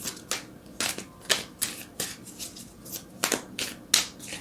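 Tarot cards being shuffled and drawn, a run of crisp riffling snaps and slaps in uneven bursts, close and fairly loud with no talk.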